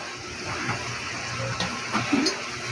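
Water poured into a pan while cooking adobong sitaw, string beans in a home kitchen, a steady close rushing and splashing stream lasting a few seconds, with no voices.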